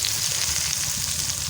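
Potatoes frying in spiced oil for a banana flower dish, a steady bright sizzle with soft crackle, close and continuous, with no talking.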